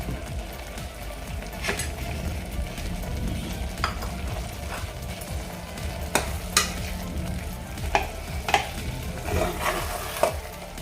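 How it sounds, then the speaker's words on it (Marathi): A spoon scrapes and stirs dalia lapshi, a sweet broken-wheat porridge, in a pot, with a soft steady bubbling sizzle underneath and several sharp scrapes against the bottom, close by with no talking. "व्यवस्थित व्यवस्थित अशी बुडापासून आपण ही लापशी हलवून घ्यायची आहे"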